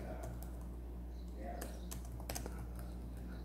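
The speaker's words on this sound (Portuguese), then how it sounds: "Você vai digitar assim, cantinho de casa, tá?" Typing on a computer keyboard in a quiet room, a run of light, irregular key clicks with a few sharper taps close by, over a low steady hum.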